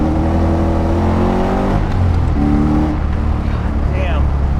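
An LS V8-swapped Nissan 240SX S13 coupe revs hard on a drive, its loud engine climbing through steady harmonics before a brief lift and another pull, with no talk over it.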